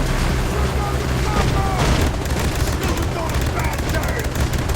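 A helicopter is shot down in the mobile video game Free City: dense, loud gunfire and a booming explosion rumble continuously, with no break in the noise.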